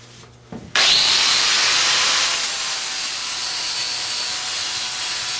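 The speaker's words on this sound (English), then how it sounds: "Now I'll be grinding those welds off with the flapper wheel on my hand grinder." Hand grinder with a flap wheel spins up and grinds welds off steel coilover parts for an AE86 build, a loud continuous abrasive hiss that starts abruptly and holds steady, with no talk.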